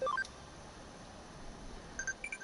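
A short rising run of electronic beeps plays as a phone screen opens in the video game Digimon Cyber Sleuth, followed by a few fainter chirping tones, clean and close with no talk.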